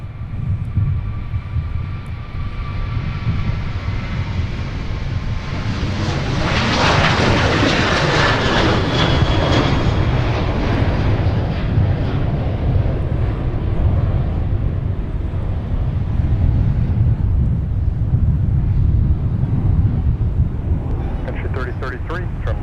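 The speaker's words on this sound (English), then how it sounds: "here's Sun Country Prime Air getting airborne for Cincinnati" A Sun Country Prime Air cargo jet takes off from Minneapolis–St. Paul for Cincinnati, its engine roar swelling to a loud, broad rumble and then holding steady as it climbs, with radio chatter and talk over it.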